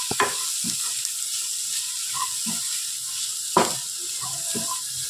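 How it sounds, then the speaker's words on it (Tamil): Capsicum sautéing in hot oil gives a steady bright sizzle throughout, broken by a few soft knocks and scrapes as it is stirred in the pan. "சேர்த்துட்டு இதையும் நல்லா எண்ணெயிலே வதக்கி விட்டுறலாம்."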